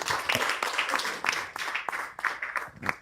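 An audience at a film platform launch event claps in scattered, uneven bursts, moderately loud and fairly brief.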